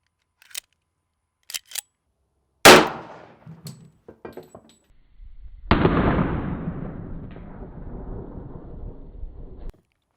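A few faint clicks lead into a sharp, loud .45 caliber gunshot at a bulletproof face mask on a dummy, followed by a second heavy shot with a long, rumbling decay outdoors.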